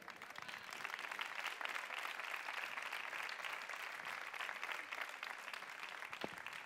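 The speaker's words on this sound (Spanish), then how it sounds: "Un aplauso para él." A crowd applauds at a hairdressing awards ceremony, a steady wash of many hands clapping that holds evenly for several seconds at moderate distance, with no voices over it.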